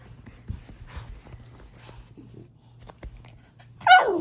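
A dog whining to be let out to pee, soft scattered whimpers and small movement noises over a low indoor hum, ending in a louder, sharp yelp-like whine.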